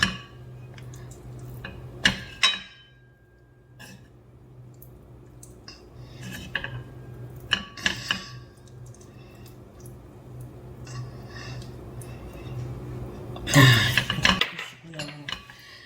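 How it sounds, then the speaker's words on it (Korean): Gochujang being stir-fried in a pot as the base of a Korean gochujang stew, with sparse, quiet clinks and scrapes of a utensil against the pot and one louder clatter near the end. "여기도 고추장을 먼저 넣고 볶겠습니다"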